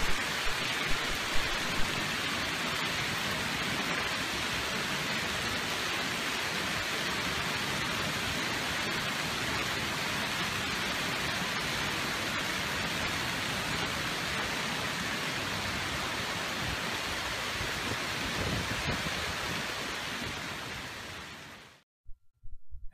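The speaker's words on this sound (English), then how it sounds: "Take a look at the magnitude of this recent hailstorm." A hailstorm over the Denver metro area pours down as a dense, continuous roar of pelting impacts, steady and loud for over twenty seconds before cutting off abruptly.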